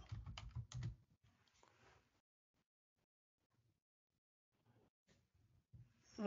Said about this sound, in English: let me type ifconfig